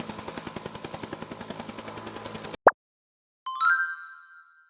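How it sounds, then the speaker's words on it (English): A helicopter's rotor thumps in a fast, even pulse for a few seconds, then cuts off, followed by a sharp click and a ringing chime. "Helicopter."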